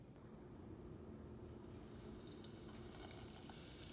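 Homemade mozzarella sticks deep frying in hot oil until golden brown, a dense steady crackling sizzle that stays even and moderately loud, with no voices.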